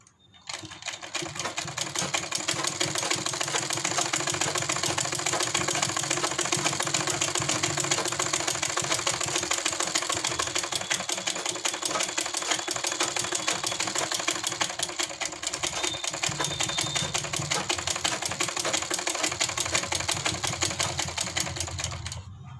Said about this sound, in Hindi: और फिर चला लेते हैं इसके ऊपर वाली सिलाई।